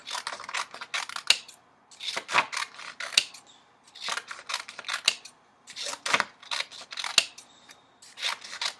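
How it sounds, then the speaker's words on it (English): Scissors snip through colorful paper to cut long strips, a close, steady run of crisp cuts in quick bursts with short pauses between groups, and no talking. "you're going to take your colorful pieces of paper, and we are going to cut them"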